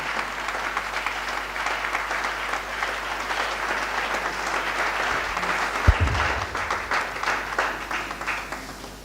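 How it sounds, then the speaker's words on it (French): A church congregation applauds and cheers at a Pentecostal general assembly, sustained dense clapping filling the hall steadily throughout with a brief thump midway. "On acclame le Seigneur jusqu'à ce qu'il prenne le micro."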